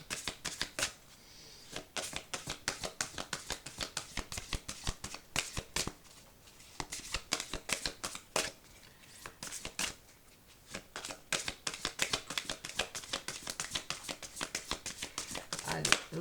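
Oracle cards are shuffled close up in quick bursts of papery riffling and slapping, with short breaks between runs, while someone speaks French softly over them.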